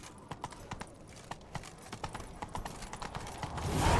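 Hooves of Roach, a horse in The Witcher 3: Wild Hunt, clip-clop in a steady galloping rhythm, moderately close, with rising wind or ambient noise toward the end and no talk.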